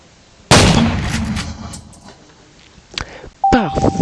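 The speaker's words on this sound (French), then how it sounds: "On va tirer sur le vendeur." A loud shotgun blast with a broadband burst and decaying tail, fired at the dealer in the video game Buckshot Roulette, followed by quieter game clicks and a steady electronic tone with bright chirps near the end.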